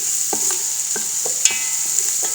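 Chicken with spices sizzling steadily in a hot pot, a close, constant frying hiss broken by soft irregular stirring scrapes and a couple of sharp pops, with no talking.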